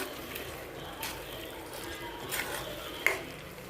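Soft scraping and stirring of mutton curry in a pan over a faint, steady sizzle, with a few light clinks of a utensil against metal.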